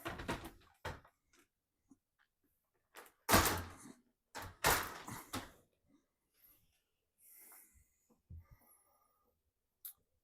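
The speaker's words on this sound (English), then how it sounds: "I'm going to go ahead and remove that lower rack so we can get a better look" A dishwasher's lower rack is pulled out, giving a few sharp rattling scrapes and clunks spaced over several seconds with quiet gaps between.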